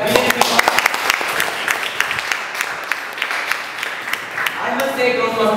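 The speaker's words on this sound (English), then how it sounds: "a round of applause for this guy" A Toastmasters audience claps for a speaker, scattered sharp individual claps at first, then thickening into a moderate round of applause, with a voice talking over parts of it.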